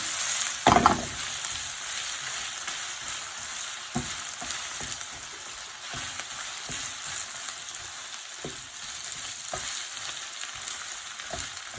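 Kaleji liver frying with green chilies on a tawa, a steady close sizzle with occasional scrapes and stirring clicks over the hiss.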